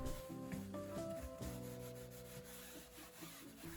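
A sponge rubs over a kitchen sink crusted with white hard-water coating, giving soft, close scrubbing strokes with some brief tonal squeaks, quiet and without talk.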